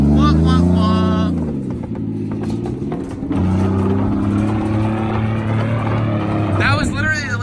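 A drift car pulls away along a track at a Japan Matsuri drift event, its engine tone rising and falling as it accelerates off, loud and close at first, with people talking over it and a wailing voice mimicking a sad trombone.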